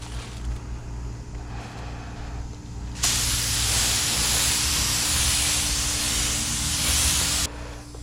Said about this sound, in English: here's the very first coat of base coat